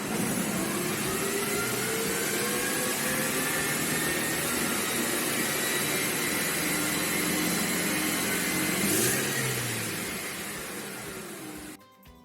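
A Mercedes C180 K with high emissions and a fault code runs with a loud, sustained engine drone whose pitch climbs gradually as it revs, then falls away and cuts off near the end.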